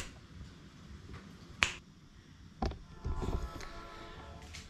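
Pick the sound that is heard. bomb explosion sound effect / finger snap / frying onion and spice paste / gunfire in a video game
finger snap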